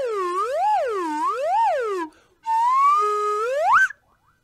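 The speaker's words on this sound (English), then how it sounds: "double slide whistle because you're a clown" A double slide whistle plays loud, close, swooping tones that rise and fall in repeated waves, then pauses briefly before a long, steady upward slide ends in a sharp cutoff.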